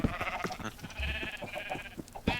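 A sheep in a video game bleats in a rapid, wavering, nasal series, close and fairly loud, with a short pause and a final bleat at the end.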